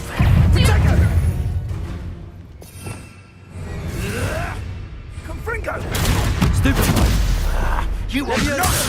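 Confringo blasting spell in Hogwarts Legacy, heavy booming impacts and crashing debris in rough bursts with a brief lull midway, mixed with game effects and voices.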